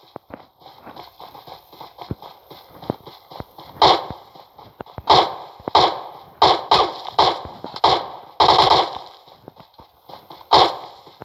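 Gunfire from above in a video game: a string of sharp, loud shots and impacts at irregular intervals, some in quick bursts, standing out against quiet background.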